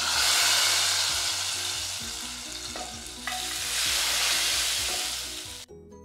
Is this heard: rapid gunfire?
no